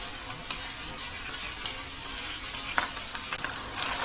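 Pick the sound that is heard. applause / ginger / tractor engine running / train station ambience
ginger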